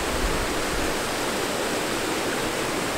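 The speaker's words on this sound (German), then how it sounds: "Hier ist schon mal Wasser." Aling Aling waterfall in Bali roars as a steady, dense rush of falling water, loud and close with no pauses.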